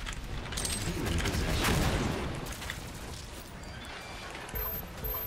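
Shotgun blasts in a DOOM multiplayer match, a loud burst of booming gunfire around the middle with lingering game noise and effects before and after.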